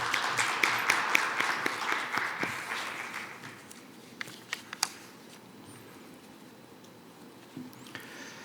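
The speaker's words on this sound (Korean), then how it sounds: "앞으로 나오실 때 큰 박수로 환영해 주시기 바랍니다." Audience applause at the opening ceremony of the 2020 Northern Forum welcomes the chairman of the Korea International Trade Association to the stage, thick clapping that thins out after a few seconds to scattered claps and light shuffling.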